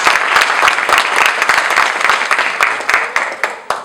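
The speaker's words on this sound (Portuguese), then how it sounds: "Vamos aplaudir a palavra do Evangelho, a palavra de Jesus" A congregation at a Catholic Mass applauds the Gospel reading, brisk close clapping that starts dense and thins into separate louder claps as it dies away.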